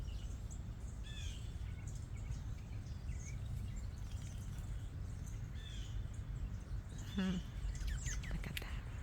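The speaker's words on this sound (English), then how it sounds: "Birds everywhere." Birds, including robins and cardinals, chirp and call outdoors in short, scattered bursts over a low background hum, with a louder call near the end and no talk.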